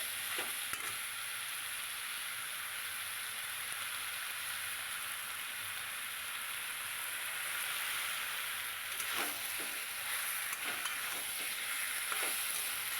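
Minced chicken sizzles steadily in a pan while being stirred, a dense close frying hiss with occasional spoon scrapes and pops throughout.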